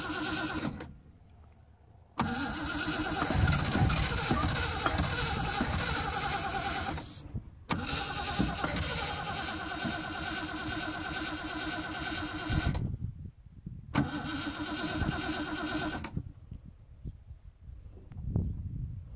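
A Land Rover V8 engine, left standing in a field for 12 years, cranks and runs roughly in loud sustained bursts broken by several abrupt silences, close up with no talk.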